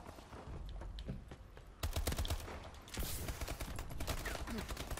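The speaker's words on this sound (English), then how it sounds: "Enemy missile strikes." Enemy missile strikes in Call of Duty: Advanced Warfare hit as a dense barrage of blasts and rapid gunfire-like cracks, swelling sharply partway through and staying loud and busy to the end.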